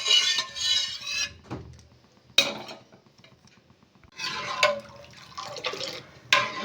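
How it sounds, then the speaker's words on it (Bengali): Milk stirred in a wok while boiling for nolen gur payesh, with date-palm jaggery nearby: bursts of metallic scraping and clinking of a ladle against the pan, alternating with quieter stretches of simmering, close and moderately loud. "দুধ ক্রমাগত নাড়তে থাকবো নাড়তে নাড়তে দুধটা একটু ঘন করে নেব"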